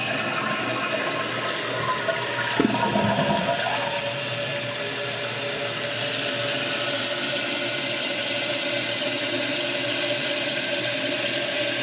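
A faulty toilet with a cracked plastic valve seat flushes with a loud whoosh, then water keeps rushing and hissing steadily as the tank refills, close and alone.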